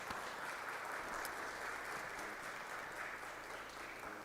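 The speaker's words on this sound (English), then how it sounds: "Just want to give her a round of applause." Sustained applause from an audience at a Providence city council meeting, a steady dense clatter of many hands clapping at moderate distance, continuing evenly without pause.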